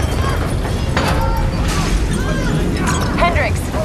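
Explosions boom and rumble across a facility in Call of Duty Black Ops 3, a dense continuous roar with mechanical clatter and voices talking over it.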